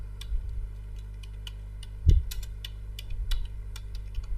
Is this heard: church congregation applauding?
no